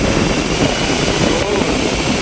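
A battery-powered electric car fan, converted for use, whirs with a dense, steady rushing drone that stays loud and close the whole time.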